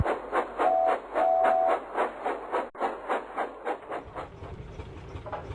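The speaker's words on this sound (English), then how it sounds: "he puffed off with a train of empty cars" A steam engine puffs off with a train of empty cars, its chuffs beating in a quick, regular rhythm with rattling wagons, then fading and slowing toward the end.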